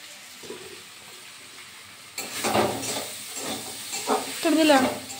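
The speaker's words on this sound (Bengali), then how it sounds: "এখানে ইলিশ মাছের মাথা দিয়ে কচুটা রান্না করে নিচ্ছি, কষিয়ে নিচ্ছি।" Taro cooked with a hilsa fish head being sautéed and stirred in a pan, with a faint sizzle at first, then louder scraping stirs and frying noise close by.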